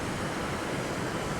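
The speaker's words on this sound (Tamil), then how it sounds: "தண்ணி எந்த அளவு வருதுன்னு பார்த்தீங்கன்னா எல்லா வான்காதும் திறந்து விட்ருக்காங்க" Water rushing through the opened sluice gates of Unnichchai reservoir in Batticaloa, a steady, dense roaring wash with no breaks.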